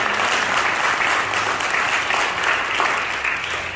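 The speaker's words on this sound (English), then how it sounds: "Come on, let's clap our hands to the glory of God." A church congregation claps hands together, a loud, sustained, even wash of many hands that stays steady throughout without pause.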